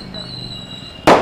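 A Diwali firecracker in Adilabad district goes off with a single sharp, loud burst at the very end, after a quiet stretch of faint background hum.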